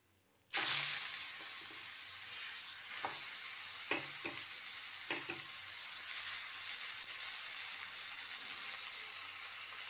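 Shredded papaya and curry leaves fry in hot oil with a loud, continuous sizzle that starts suddenly and holds steady, broken by a few stirring scrapes in the pan.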